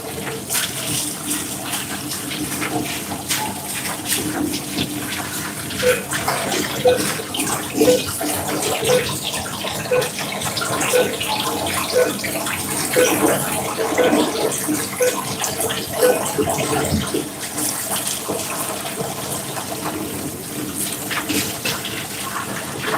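Canned beans are rinsed under a running tap in a work kitchen, a loud, steady gush of water splashing close by for the whole stretch, with faint kitchen clatter and no clear talk.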